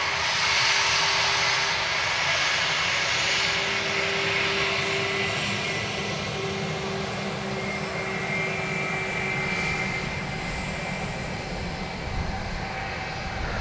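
Airliner engine at Dublin Airport's runway 10, a steady droning roar with a faint tonal hum, loud and continuous, easing slightly over time.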